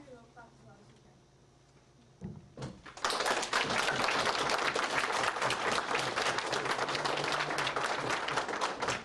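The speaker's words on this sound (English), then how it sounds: "If you want to give them your vote, clap as loud as you can." An audience at a junior drama performance claps loudly as a vote, after quiet talk at the start, then bursts into sustained, dense applause that fills the rest of the clip.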